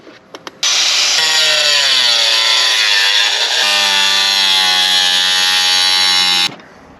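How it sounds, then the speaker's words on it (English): A power grinder cuts through an old garden pond, a loud continuous whine starting abruptly after a few short ticks and holding steady, its pitch dipping and shifting as the blade bites, then cutting off sharply near the end. "Let's get grinding."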